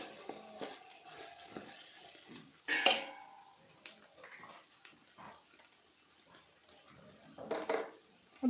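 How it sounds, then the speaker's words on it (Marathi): Turmeric is stirred in hot oil in a pan for a chutney, with a spatula scraping and clinking against the metal at irregular moments and several louder knocks over a soft kitchen background. "हळद तेलामध्ये व्यवस्थित अशी परतवून घ्यायची"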